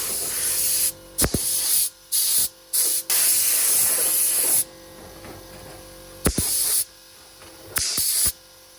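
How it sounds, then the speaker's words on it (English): Aerosol lacquer sprayed onto a Ford Escort rocker cover outdoors, in several loud hissing bursts of roughly half a second to two seconds, separated by short pauses and sharp clicks from the nozzle. "it was time for some lacquer."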